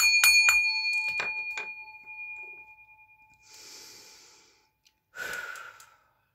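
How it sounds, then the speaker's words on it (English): A small bell used before a tarot reading is struck several times in quick succession, its clear ringing tones hanging and slowly fading, followed by soft breathy exhalations and a brief rustle. "I'm about to ring this bell"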